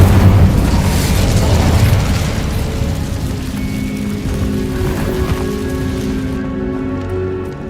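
Casting the Incendio fire spell in Hogwarts Legacy produces a loud, sustained fiery burst with a booming, crackling roar that gradually settles into a lower rumble and fades out near the end.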